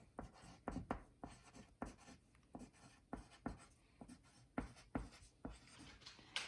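A pencil or pen writes a word on paper during a writing lesson, quiet scratchy strokes repeating in short bursts with brief pauses, close and alone.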